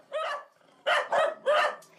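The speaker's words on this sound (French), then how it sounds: "Des chiots entassés les uns sur les autres ou enfermés dans de petites cages sordides" Puppies crammed into small cages yap in three or four sharp, high-pitched barks, close and loud, with short pauses between them and no talking.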